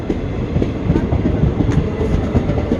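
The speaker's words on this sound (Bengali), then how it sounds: "এই এটা হচ্ছে ভাগীরথী এক্সপ্রেস" The Bhagirathi Express passenger train rolls into a station, a steady rumbling clatter with rhythmic wheel clicks, fairly close and continuous throughout.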